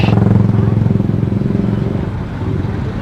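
A motorcycle being ridden on the road, its engine giving a loud, close, rapid throbbing pulse that eases slightly and carries on steadily to the end.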